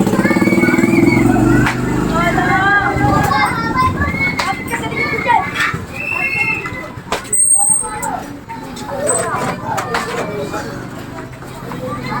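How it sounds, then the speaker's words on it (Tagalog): A motorcycle passes by amid children shouting and playing nearby, with steady crowd noise throughout. "May motor, may motor."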